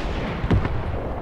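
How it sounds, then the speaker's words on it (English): A single mortar strike explodes in the Graviteam Tactics wargame, a short muffled thump standing out briefly over a steady low rumble of battlefield noise. "Mortar strikes are doing quite a number onto the enemies."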